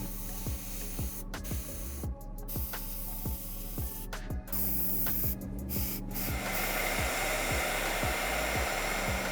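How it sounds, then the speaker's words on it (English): An airbrush hisses steadily as it sprays paint onto the face of a Batman Begins premium format figure, a constant close airy rush broken by short pauses, with a faint rhythmic ticking from the compressor underneath. "I'm going to darken the eyes with the airbrush just to darken the makeup around the eye."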